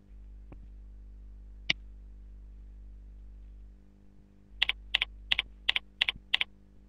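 Several crisp key clicks on a computer keyboard, one or two isolated taps followed by a quick run of six keystrokes entering a password, close and clear over a low steady hum.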